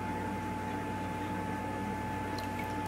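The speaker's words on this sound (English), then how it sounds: "you can probably hear the fan on my computer also. I have a fan that's humming." A computer fan hums steadily in the background of a room, a constant low drone with a faint tonal whine and soft noise, unchanging throughout and with no talk.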